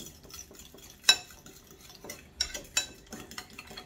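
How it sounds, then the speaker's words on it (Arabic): Pasta salad with parsley being tossed in a bowl: spoon scrapes and clinks against the bowl, one sharp knock early and several lighter strikes later, close and fairly loud. "وغادي نخلط مزيان هاد العناصر كلها"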